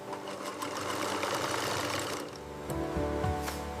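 An industrial sewing machine stitches bamboo bed linen on a factory finishing line, a rapid mechanical whirr that runs steadily, dips briefly, then resumes with a few sharp clicks.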